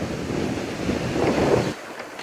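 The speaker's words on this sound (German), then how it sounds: "Die Birke im Wind." Wind blowing through a birch tree beside a cycling route near Bad Sassendorf, a rushing, surging gust that builds and then drops off abruptly near the end, with no voices.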